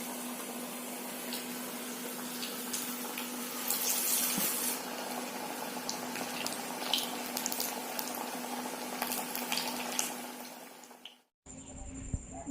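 Tapioca vada, a cassava fritter, fries in hot oil with a steady, soft, bubbling fizz that holds for about eleven seconds before cutting off abruptly.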